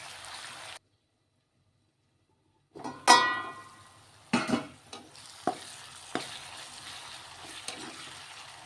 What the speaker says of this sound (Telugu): ఒక టమాటా చిన్న ముక్కలు కోసుకుని టమాటా కూడా బాగా ఫ్రై అయిపోతే అన్నమాట